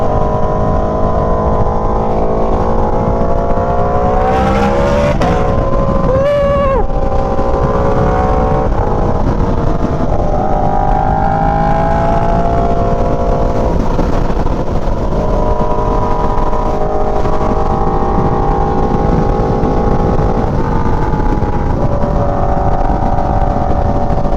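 An Aprilia Tuono V4 motorcycle's engine and exhaust drone loudly and steadily while riding, with the pitch sweeping up and down through revving and gear changes and a roaring wind-blown texture throughout; no one talks.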